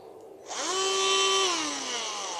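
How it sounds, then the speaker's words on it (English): Small rotary tool running at low speed to buff the wheels of a 30-year-old model locomotive, starting abruptly into a steady high whine that sags slightly in pitch near the end. It is heard alone and close. "have it at a lowish speed, and just gently buff over the wheel surfaces"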